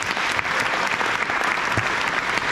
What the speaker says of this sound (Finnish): Annetaanpa aplodit tässä vaiheessa